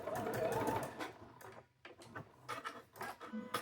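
A sewing machine stitches across the corner of a quilt block in short, rapid whirring bursts with brief pauses between them, close and fairly quiet.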